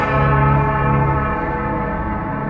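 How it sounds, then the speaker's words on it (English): A single loud plantation bell tone rings out and sustains, its rich overtones slowly decaying. "you'll hear old plantation bell ring from somewhere beneath the water"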